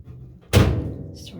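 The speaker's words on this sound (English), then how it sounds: "I have to close the lid" A washing machine lid is shut with a single solid thud that rings on briefly, close by, followed by a faint higher rustle.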